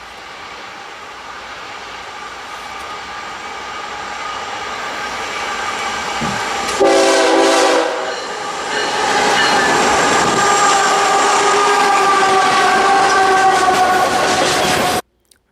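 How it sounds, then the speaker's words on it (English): A BNSF freight tanker train rolls past with a steady loud rumble and rail clatter, and a strong multi-tone horn blast rings out partway through before the wheels and cars keep roaring on. "Pretty good horn action right there at the start."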